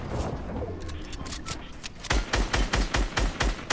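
Rapid video game gunfire, a few scattered shots at first, then a loud burst of evenly spaced automatic fire in the second half, close and punchy.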